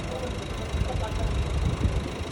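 A Ford EcoSport's engine drones steadily in fifth gear while climbing a flyover, a low, rumbling, even hum with slight surges, close and continuous throughout.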